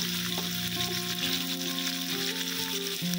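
Steady, loud sizzling of squid frying in a hot pan, with occasional stirring scrapes, no talking.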